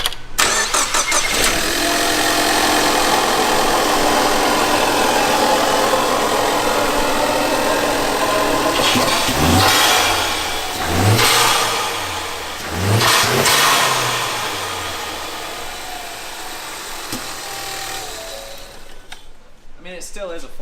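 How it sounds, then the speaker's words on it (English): A Toyota Supra's four-cylinder turbo engine revs loudly and close by, with repeated throttle blips rising and falling over a rumbling idle, while people talk over it. "we could show them how rowdy it sounds for just like a little for a little four cylinder"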